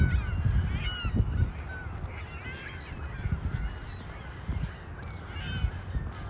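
Geese honk repeatedly from a flock resting on lake ice at Wascana Lake in Regina in early April, calls scattered near and far over low outdoor wind and footstep rumble.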